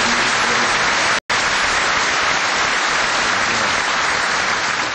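A packed hall, seated even in the aisles, fills with loud, sustained applause, a dense, even clatter of many hands that cuts out for a split second before resuming just as strongly.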